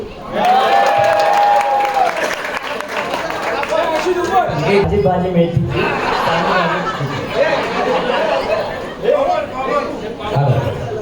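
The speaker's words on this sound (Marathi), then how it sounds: "आणि जोरदार टाळ्यांचा गजर" A crowd applauds at a Home Minister show ceremony where a paithani sari is awarded, with clapping mixed into chatter, laughter and a voice speaking over it.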